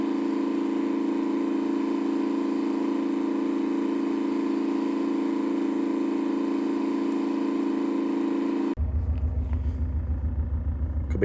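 A BMW N47 2.0-litre diesel engine idles with a cylinder misfire, a steady loud rumbling drone that holds evenly, then shifts abruptly near the end to a lower, throbbing uneven tone.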